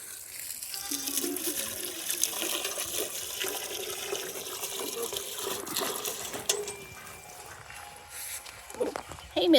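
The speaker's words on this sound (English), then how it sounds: "I gotta go turn off the water." Water runs and gushes from a tap on a farm, a steady close rush lasting several seconds with clatter and faint background voices.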